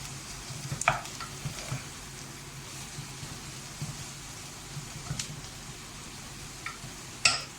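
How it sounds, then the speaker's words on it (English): Onions sauté in a pan over a gas flame for mutton koftas, giving a soft, continuous sizzle with occasional scraping and clinking from stirring. The sound stays fairly quiet and close, with no talk. "It takes a bit of a time to saute the onions."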